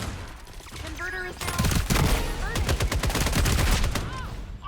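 Bursts of gunfire from the shooter game FragPunk crackle in quick volleys, loud and close, mixed with game effects while a commentator talks over the action.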